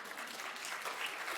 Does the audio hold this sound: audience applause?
yes